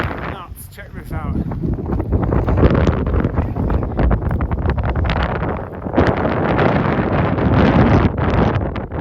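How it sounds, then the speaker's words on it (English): Strong wind tearing across a high mountain pass in Norway, loud rough gusts battering the microphone almost nonstop, with rising and falling bursts. "Wow, it is windy up here on this pass."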